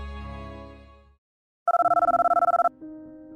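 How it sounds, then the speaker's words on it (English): An electronic telephone ringing in a fast warbling trill, loud and close for about a second, following a fading musical tone and silence, with a low tone after. "The phone finally rang."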